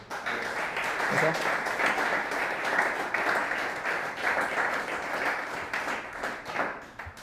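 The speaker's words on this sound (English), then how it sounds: "another round of applause" A conference audience at a Bitcoin business event in Montreal gives a sustained round of applause, steady dense clapping throughout, with a voice briefly heard over it.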